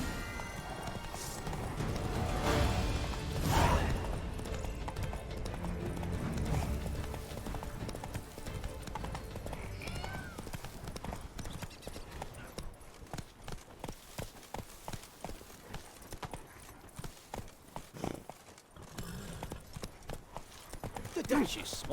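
Roach, a horse in The Witcher 3, galloping with rhythmic hoofbeats that grow faster and more distinct toward the end, mixed with game ambience and a spoken voice near the start.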